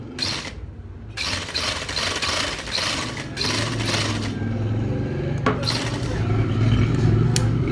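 A sewing machine stitching a gents kameez runs in bursts, with clattering mechanical whirring starting and stopping and occasional sharp clicks, close and moderately loud.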